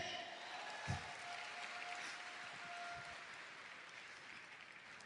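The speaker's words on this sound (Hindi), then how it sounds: "खुद के लिए ताली बजा सकते हैं?" An audience at a diamond-themed leadership function in Surat claps steadily for about five seconds, a dense, even wash of applause heard from a distance with no voices over it.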